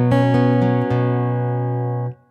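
Instrument heard through its direct pickup only, with no microphone: a strummed chord ringing out bright and sustained, a couple of quick string attacks, then fading before a short muted restart, loud and close.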